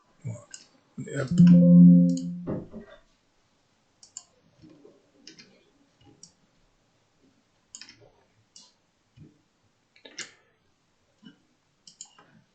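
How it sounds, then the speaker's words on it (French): A computer mouse and keyboard give sparse, sharp clicks at irregular intervals while radio channels are programmed on a PC, with a brief voice near the start. "Donc on clique, CTRL pour sélectionner, on récupère nos canaux."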